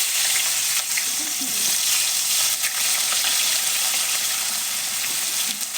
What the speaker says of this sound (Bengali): তেলেই এবার ফোড়নে দেবো তেজপাতা পেঁয়াজ কুচি